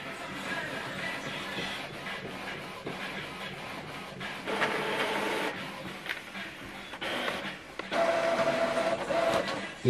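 A Canon PIXMA TS7450 inkjet printer runs continuously with whirring, shuffling mechanical passes and clicks, steady and close, getting louder toward the end.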